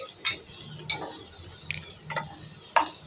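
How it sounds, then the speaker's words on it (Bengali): Chopped onion and garlic stir-fried in a pan for a fish-head mung dal, with a steady close sizzle broken by a few scraping stirs of a utensil, no voices. "পেঁয়াজ কুচিটা দিয়ে ভালো করে নেড়ে ছেড়ে মিক্সড করে নেব"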